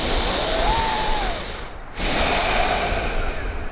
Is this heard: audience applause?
no